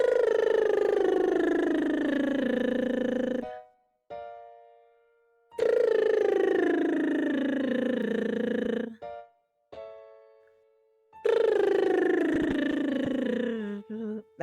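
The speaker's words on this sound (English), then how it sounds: "now we're doing lip trills" Lip trills run down descending scales in a vocal warm-up, three long buzzing phrases separated by short pauses with brief piano notes between, close and steady.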